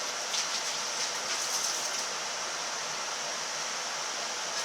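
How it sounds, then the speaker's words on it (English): Water running steadily while a bottle is rinsed, a continuous hissing splash with no breaks and no talking, moderately quiet and close. "Just gonna rinse it."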